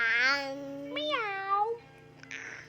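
A young child imitates a cat, giving two drawn-out, high-pitched meows close up, with a brief soft sound trailing after.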